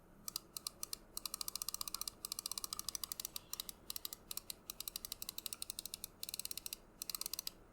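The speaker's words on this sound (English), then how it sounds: "Mouse 1." Rapid bursts of crisp, bright clicks from the left main button of a Razer Viper Ultimate wireless gaming mouse, pressed in quick, uneven runs and heard close-up and alone.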